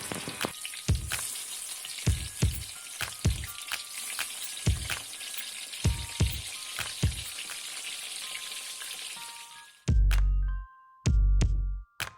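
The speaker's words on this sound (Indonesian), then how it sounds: "cukup kita goreng aja seperti ini" Tempeh sizzles steadily in hot oil with frequent crackles and pops, close and fairly loud, ending with a few louder clattering bursts.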